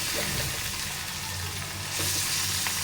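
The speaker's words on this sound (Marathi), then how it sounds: "कांदा छान परतून घेऊया." Chopped onion sautés in oil in a pan for a potato bhaji, giving a steady, close hiss and crackle of frying with faint stirring scrapes and no voices.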